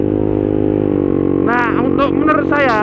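A motorcycle engine fitted with a quickshifter idles steadily, then revs up several times in quick bursts, loud and close.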